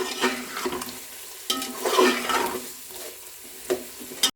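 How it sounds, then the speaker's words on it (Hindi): Potatoes and chicken frying with green chilies, stirred in a pot: repeated scraping stirs and bursts of sizzling, moderately loud and close, with no talk. "और इसको मिक्स कर लेंगे।"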